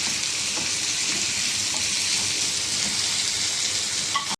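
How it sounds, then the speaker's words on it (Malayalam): Tomato, onion, garlic and ginger sauté in a pan with a loud, continuous sizzle and soft stirring scrapes, which cut off abruptly at the end. "തക്കാളിയും ഉള്ളിയും വെളുത്തുള്ളി ഇഞ്ചി എല്ലാം വഴന്നിട്ടുണ്ട്"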